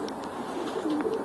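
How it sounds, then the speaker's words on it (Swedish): Homing pigeons coo softly in a loft, with low, murmuring calls repeating over a quiet, steady background of indoor room noise. "Här har vi en toppavdelning där vi har två stycken duvor"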